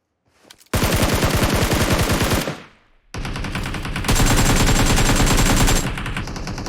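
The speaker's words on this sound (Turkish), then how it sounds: "La bu adam vuruyor vuruyor." Automatic gunfire in the PUBG Mobile video game, a loud sustained burst of rapid shots that stops, then after a short pause a second long, dense burst continues, very close.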